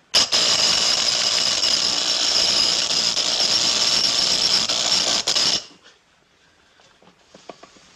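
A power drill whirs loudly and steadily for several seconds, then cuts off abruptly, leaving quiet rattles and small clicks.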